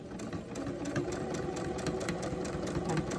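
A sewing machine runs steadily while stitching a fabric face mask, its needle giving a fast, even mechanical chatter and hum throughout, close and fairly loud with no pauses.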